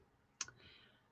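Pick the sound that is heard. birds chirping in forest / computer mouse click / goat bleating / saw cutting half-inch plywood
computer mouse click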